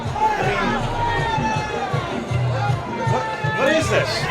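A noisy crowd at a mayor's public event, with overlapping shouting voices and babble surrounding a man who raises his voice close by.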